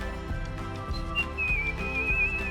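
A person whistles a thin, wavering tone that slides and holds in the upper register, near and fairly quiet, over a background of rhythmic low thumps.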